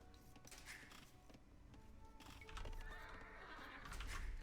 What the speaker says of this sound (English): Oh, but they also get a horse.